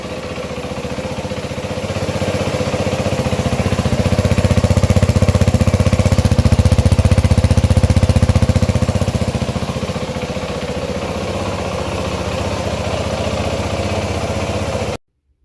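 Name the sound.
2012 Yamaha WR450F motorcycle engine starting and running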